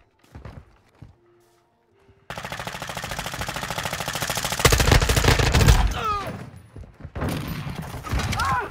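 Rapid bursts of automatic gunfire in a Modern Warfare 2 Search and Destroy match, loud and sustained after a short quiet opening, with dense rattling shots and brief pauses.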